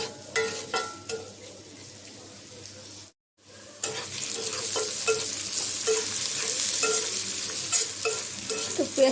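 Chopped onion, green chili and garlic frying in oil in a wok, starting with spoon scrapes over a crackling sizzle, going silent for a moment, then a louder, steadily building hiss with occasional stirring clicks, heard up close and without speech.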